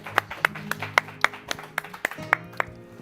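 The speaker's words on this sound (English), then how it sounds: "Let's get a round of applause," Applause for a performance, heard as a small group's separate claps in a loose, fairly even rhythm of about a dozen sharp hits, close and distinct over low background murmur.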